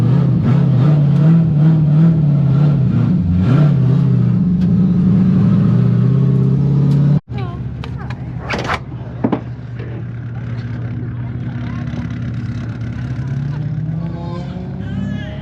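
A drift Corvette's engine revs hard while the car slides, with a loud rising and falling roar that cuts off abruptly midway and then resumes at a lower, steadier drone with brief sharp noises.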